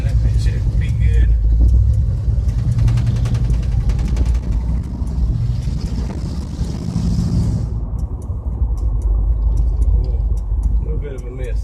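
A 1977 Ford F100 Custom barn-find pickup idles low with a steady low rumble and an uneven, skipping miss, recorded outdoors with wind buffeting the microphone.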